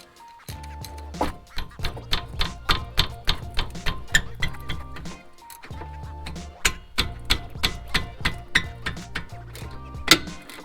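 Sharp metallic ticks and clicks from a 17 mm wrench working the rear brake caliper bolts loose on a Lexus RCF, a steady run of close, rapid ratcheting taps with a brief pause midway.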